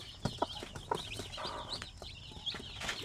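Newly hatched zampen chicks and adult chickens cluck and peep in a close, busy barnyard chorus of short repeated calls, with no talking.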